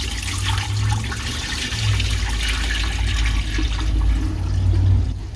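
Soda ash dye-fixer water drains off ice-dye fabric after soaking, a steady close rush of trickling, splashing liquid with low gurgling underneath.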